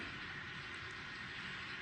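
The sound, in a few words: model train running on layout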